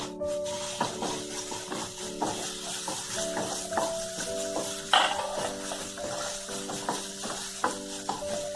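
Turmeric, red chili powder and kitchen king masala fry in a pan for mushroom butter masala, a close, steady sizzle with repeated scraping stir strokes and clinks of a spoon against the pan, no voices.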